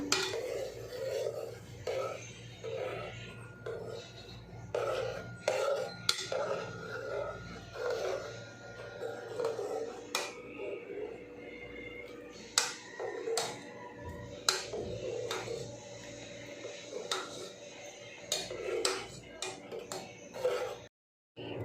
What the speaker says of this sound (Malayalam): കൈകൊണ്ട് അങ്ങനെ ആക്കി കൊടുക്കണം ഇളക്കി കൊടുക്കണം